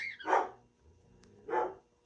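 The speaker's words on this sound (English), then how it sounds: "the dogs are just going bananas today" Two separate dog barks ring out with a pause between them, fairly close and moderately loud, with no talking over them.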